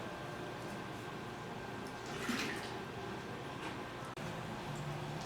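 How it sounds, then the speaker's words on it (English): Water is added to a Winexpert Vintners Reserve wine kit fermenter, producing a steady, quiet pouring and splashing that continues through the clip with a brief rise in the middle. "So I'm just going to go ahead and add water and bring our volume up to that line"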